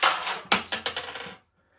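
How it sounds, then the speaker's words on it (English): A bunch of keys drops and jangles, a quick burst of metallic clinks and rattles lasting about a second before it settles into quiet. "dropping the bloody keys everywhere"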